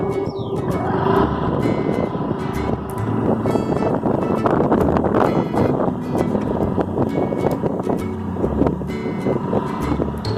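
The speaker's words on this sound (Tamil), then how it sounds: "இப்போ வந்து வண்டி ஓட்டிகிட்ருக்காங்க" A beginner rides a scooter outdoors, with steady engine drone and heavy wind buffeting the microphone throughout, continuous and fairly loud with no talk.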